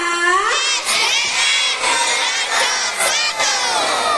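Schoolchildren at an elementary school prize-giving event in Surabaya shout their school chant together, a loud crowd of young voices with rhythmic bursts and brief pauses, close and sustained.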